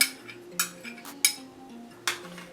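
Gravy being stirred in a pot with a utensil, sharp metallic clinks against the pot rim at irregular intervals over a soft scraping swirl, close and alone.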